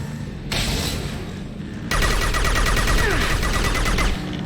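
Rapid bursts of Locust submachine gun fire from Mass Effect 2, loud and close, with a short burst, a pause, then a longer sustained stream of crackling automatic shots.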